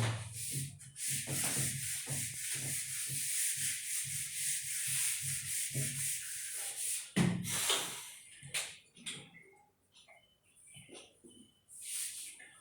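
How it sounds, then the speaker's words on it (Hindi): A writing board being rubbed clean during a class 12 maths lesson, with repeated brisk scrubbing strokes in steady bursts for most of the clip, then a few slower, quieter wipes toward the end. "अच्छे से रब कर रहा हूं मैं"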